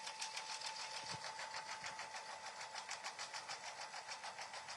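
Embroidery sewing machine stitching a 6x6 mug rug design, running steadily with a fast, even needle rhythm that repeats throughout, a close mechanical whir with no talking.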